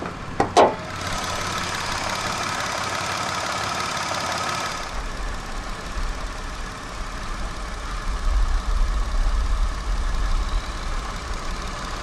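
A 2013 Mitsubishi Mirage's 1.2-litre 3A92 inline three-cylinder engine idles steadily with a low, even rumble after a couple of brief clicks at the start, continuing without speech.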